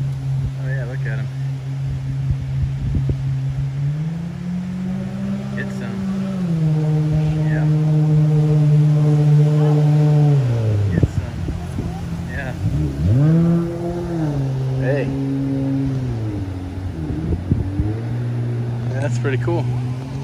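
Jet skis run on a lake channel, their engines droning and rising and falling in pitch as they rev and turn, moderately close, with people talking over them.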